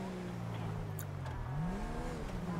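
A Mercedes-Benz E-Class engine revs up in GTA V while passing another car, a steady drone rising in pitch toward the end, with a faint tire noise; fairly quiet and continuous, no talk.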